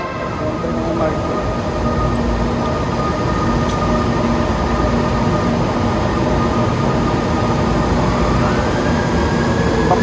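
A Manila MRT metro train rumbles steadily nearby, with a continuous low roar and faint electrical whine throughout.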